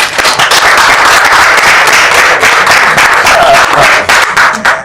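Loud, dense audience applause with close, sharp claps that hold steady for nearly five seconds and then thin out slightly at the end, with no voices over it.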